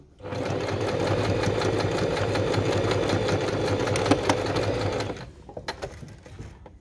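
A sewing machine runs steadily for about five seconds, stitching along the top of a seam to reinforce it on a pair of shorts, with a loud even mechanical whir that stops abruptly, followed by a few light clicks.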